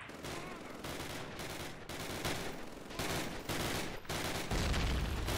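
Sustained machine gun fire in the Call of Duty: United Offensive video game, dense overlapping bursts rattling continuously at moderate volume with short gaps between volleys.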